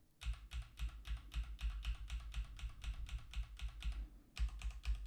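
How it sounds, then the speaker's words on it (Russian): Rapid, evenly spaced keystrokes rattle on a mechanical keyboard with red switches, close and clear, each press a crisp clack with a short pause near the end before typing resumes. "Давайте пощелкаем клавиатурой. У меня механическая клавиатура с красными свечами."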